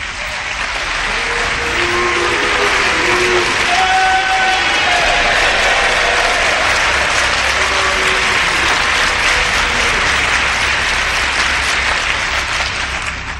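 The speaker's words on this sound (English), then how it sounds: "Yes, I heard both the applause and the boos." A large crowd roars with loud sustained applause mixed with shouts and low booing calls, a dense continuous din that holds steady throughout.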